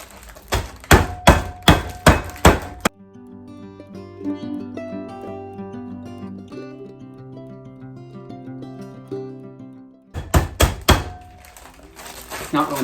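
Vanilla wafers are crushed with a fry pan, giving a run of heavy, rhythmic thunks at the start and again near the end. A stretch of music fills the gap between the two bursts.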